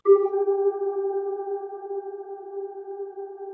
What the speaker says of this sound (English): I used one click of the metronome, put it to a very large reverb